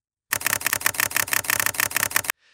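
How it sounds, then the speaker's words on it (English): A camera shutter sound effect fires as a rapid burst of crisp mechanical clicks for about two seconds, loud and alone, ending abruptly. "Search for camera shutter sound effects or similar impactful sounds."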